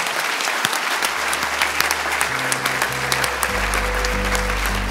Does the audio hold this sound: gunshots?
no